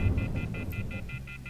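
Telephone dialing tones from the video game The Wolf Among Us, a quick run of about eight evenly spaced beeps over low background rumble.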